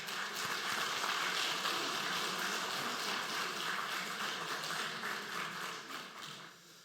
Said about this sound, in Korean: 잠깐 일어나면 축복하고 격려하는 박수 하도록 하겠습니다.